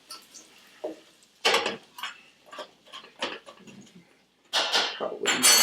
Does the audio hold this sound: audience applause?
no